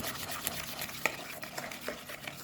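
Caesar salad is tossed with a cheesy dressing, giving soft, continuous close mixing and rustling with a few light clicks of utensils against the bowl.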